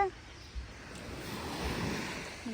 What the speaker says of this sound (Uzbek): shunaqa to'lqinlari o'rtacha har xil bo'lib qoladi